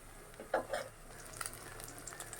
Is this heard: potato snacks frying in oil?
yes